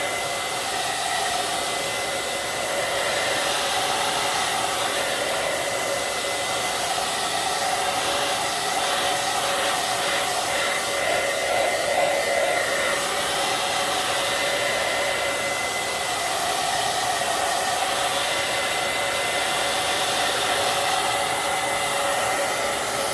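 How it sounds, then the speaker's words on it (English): A hair dryer blows continuously at close range, a loud, steady rushing whine that holds unchanged for over twenty seconds with no voices. "with my blow dryer. So turn down the volume if you don't want"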